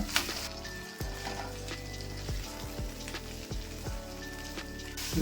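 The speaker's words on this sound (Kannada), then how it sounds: "ಇದನ್ನೆಲ್ಲ ಇವಾಗ ಸ್ವಲ್ಪ ಒಗ್ಗರಣೆಲೆ ಬಾಡ್ಸ್ಕೊಂಡ್ಬಿಡೋಣ." Mint, fenugreek and coriander leaves sizzle steadily in hot tempering oil for sambar, a continuous close frying hiss with occasional stirring scrapes and no talk.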